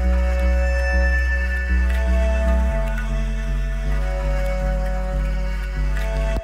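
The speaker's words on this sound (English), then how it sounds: "So the bass and the core melodic elements sound like this together." A synthesized sub bass layer and sustained melodic synth layers play together, a deep steady bass under held chords that shift partway through, with faint rhythmic pulses, loud and continuous.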